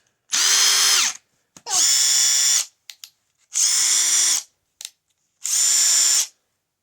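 A Ridgid subcompact drill driver spins up four times in short bursts of about a second each, a loud close high-pitched whine with brief clicks between runs and no talking.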